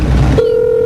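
A single steady telephone tone sounds alone after a brief burst of broadband noise, held loud and continuous while a phone call is placed.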